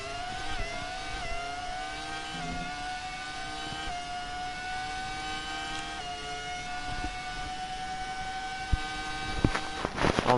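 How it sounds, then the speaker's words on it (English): A historic Formula 1 race car at a historic F1 race round screams past at high revs, a sustained, fairly distant engine wail rising in pitch through the gears, with louder knocks and bursts toward the end. "I'm just sitting here and appreciating the beautiful sound of that car."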